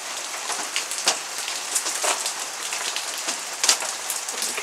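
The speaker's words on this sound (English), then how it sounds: "It's currently raining." Rain falls steadily at night, a dense continuous patter with a few sharper, louder drops standing out now and then. No voices are heard.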